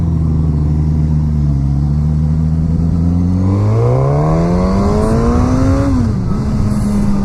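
A 2016 Suzuki GSX-S1000 ABS sportbike engine pulls hard under acceleration, its loud steady drone rising smoothly in pitch, then easing briefly before holding again, heard close with constant wind rush.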